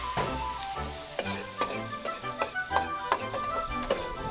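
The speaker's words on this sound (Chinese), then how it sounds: "下完油了过后，这个就先下了鸡蛋。" Eggs stir-fry in hot oil on a gas stove, crackling with a steady bright sizzle punctuated by light spatula taps against the wok, with no talk.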